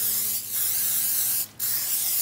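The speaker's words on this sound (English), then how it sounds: "add our cooking spray so the pancakes don't stick to the pan" Cooking spray hisses onto a pancake pan in a loud, steady, close-up stream, with two brief pauses between bursts.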